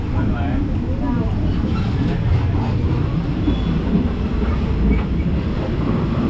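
Loud, steady rumble of a moving train in Bangkok with rhythmic rattling and faint clicks throughout, continuous and close.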